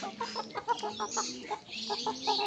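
A flock of about ten young roosters, all male, clucks and chatters continuously nearby, with overlapping short calls in an uneven rhythm and a faint crowing note mixed in.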